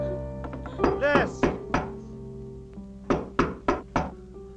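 Someone knocks on a door in two urgent bursts: a quick cluster of loud knocks, a short pause, then four more evenly spaced thuds, with a raised voice calling between them.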